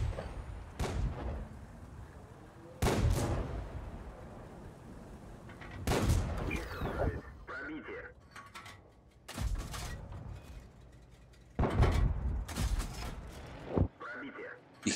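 Tank cannon fire in the World of Tanks game, with an MS-1 tank in battle: about five loud, booming shots a few seconds apart, each trailing into a rumbling decay.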